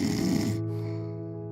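A single snore during sleep, a buzzing nasal inhale lasting about a second that fades out, heard close and alone.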